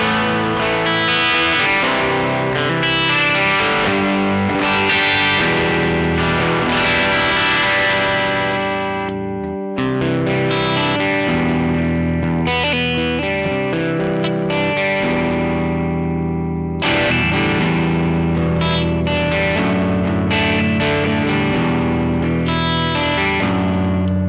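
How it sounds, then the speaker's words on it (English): Electric guitar through the dirty second channel of an amp with a NUX Trident, no pedals, playing loud, overdriven lead lines with sustained chords and ringing notes, continuous and up close for about twenty-four seconds. "That's the sound I want from a dirty amp."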